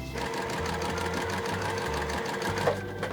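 A sewing machine stitching quilt block pieces cut from Riley Blake jelly roll fabric runs in quick bursts with short pauses, a loud, close, rhythmic mechanical whir.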